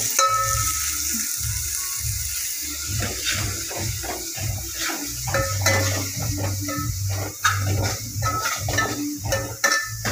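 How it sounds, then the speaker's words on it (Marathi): Onion frying in oil in a pan for a Goan clam curry gives a continuous close sizzle, with rhythmic stirring scrapes and spoon taps against the pan and no one speaking. "पयलीं कांदो घालता, बरो असो भाजून घेता."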